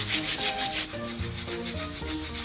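Steel wool scrubs the charred black skin of a pork knuckle in quick back-and-forth strokes, a rhythmic close-up rasping scour with no talking.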